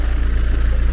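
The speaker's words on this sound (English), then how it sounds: "Sorry about the tractor noise." A tractor engine drones steadily up close on a field, its low, throbbing pulsing rumble repeating evenly throughout the brief moment.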